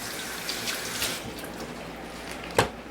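Tap water runs over fresh tomatoes in a kitchen sink, a steady close splashing stream with a few sharper splashes as the fruit is turned under the flow.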